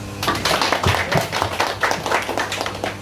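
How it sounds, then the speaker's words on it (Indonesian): An audience at a meeting between radio station staff and a local military district command gives a few seconds of continuous applause, many hands clapping at once in a busy, roomy wash. "Tepuk tangan Pak."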